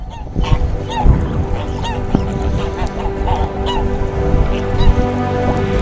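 Wild geese travelling with several young along a sound off Iona, Scotland, passed by a sea kayak: repeated loud, nasal honks from several birds, close and overlapping, over a soft hiss of water.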